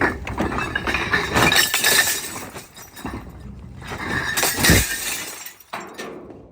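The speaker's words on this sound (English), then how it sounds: "These ain't really mason jars anyway, but these have got to go." Glass jars, not quite mason jars, smashed for disposal in a stacked pile, with repeated loud, close crashes of shattering glass and tinkling shards settling between the impacts.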